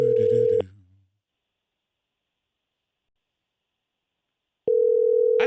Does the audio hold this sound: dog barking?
no